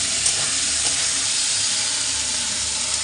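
Spice masala for a fish curry fries hard in a pan, a loud, dense and continuous sizzling hiss that stays even throughout, with no voices.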